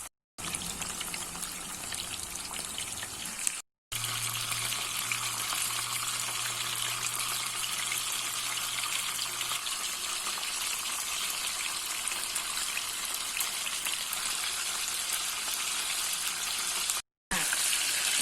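Mackerel frying in boiling oil, a constant dense crackling hiss that runs evenly and fairly loud for the whole stretch, with a short low hum early on and no talking.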